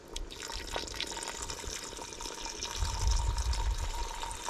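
Water pours steadily into a pot of armadillo soup being made, a continuous splashing trickle heard close up with no talking, growing fuller and heavier toward the end.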